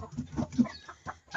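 A laying hen clucks in a backyard poultry coop, a run of short, close clucks with brief pauses, then a louder burst at the end.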